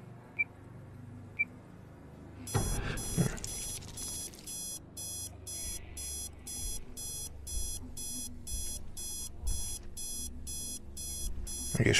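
A video game alarm clock rings in a fast, regular series of electronic beeping bursts that runs on steadily after a couple of faint clicks, with quiet background sounds beneath.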